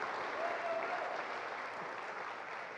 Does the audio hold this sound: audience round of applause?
yes